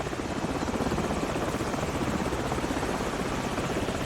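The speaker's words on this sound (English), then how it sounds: "Hold on, the helicopter's back." A helicopter in the video game Call of Duty 4 campaign: a steady, droning rotor thrum fills the scene, loud and close, with a constant chopping roar and no voices.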